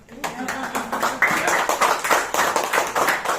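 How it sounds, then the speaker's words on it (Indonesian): Seminar attendees clap their hands in a lively burst of quick, rhythmic claps that follows a brief spoken line and stays fairly close and bright. "Yang berani boleh tepuk tangan."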